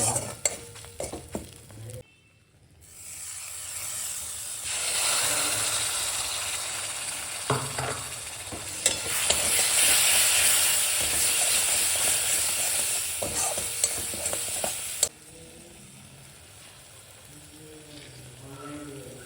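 Spices frying in a pan for a vegetarian winter dish, a loud continuous sizzle with stirring scrapes that swells midway and then drops off abruptly near the end.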